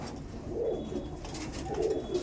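Female pigeons coo inside a loft, two clear throaty rolling calls standing out over a low steady background, with no talking.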